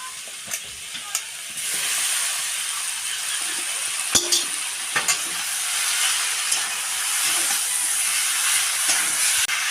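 Pumpkin and potato fry with Malabar spinach and slit green chillies being stirred in a pan, a steady sizzling hiss with occasional scraping clicks of the spoon, fairly close and continuous.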